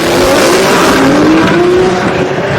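Drag racing cars making a pass at a Sick Week event, including a GTO and a GTR: a loud, close, sustained engine roar with rising pitch and some tire squeal, steady throughout with no talk.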